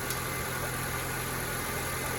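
A car engine with a P0128 fault idles steadily while its cooling system is bled, giving a constant, even running drone with a faint hum and no voices.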